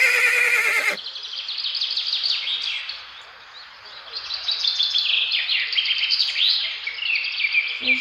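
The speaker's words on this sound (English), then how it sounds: "He just let out another neigh." An abandoned foal lets out a short whinny at the start, followed by a long stretch of birdsong chirping and trilling in the background, faint and outdoors, with no further neighing until a small sound at the very end.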